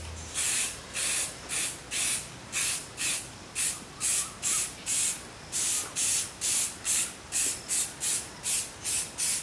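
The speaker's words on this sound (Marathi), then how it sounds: "कमीत कमी 1 फुटाच्या अंतरावरून हा कलर स्प्रे करायचा आहे।" Quick-drying NC-base colour spray paint hissing from an aerosol can for painting bull horns, sprayed from about a foot away in a long run of short, evenly spaced bursts.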